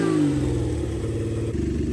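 A custom Aces Killshot Classic engine runs close and loud with an uneven, lumpy beat, revving briefly then settling into a rough, pulsing run that will not idle smoothly.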